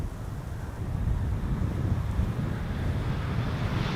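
Wind at Amsterdam Schiphol Airport buffeting an outdoor microphone, giving a constant low, rumbling roar with gusty swells and no talking.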